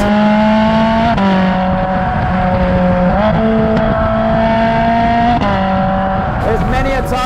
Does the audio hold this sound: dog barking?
no